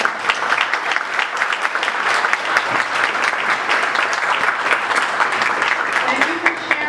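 Audience applause for Bronx Boy Scouts at a Greater New York Councils Boy Scouts of America event, a sustained, fairly close round of many hands clapping, with a short voice near the end.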